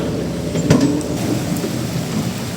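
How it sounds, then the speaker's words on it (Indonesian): Sudden heavy rain pours down in a dense steady hiss, with a loud thunder crack near the start and its rumble rolling on beneath the downpour. "Tiba-tiba hujannya deras sekali teman-teman, luar biasa."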